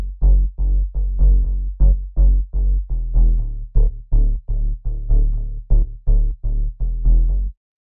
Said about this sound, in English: Then we have the bass, which sounds like this.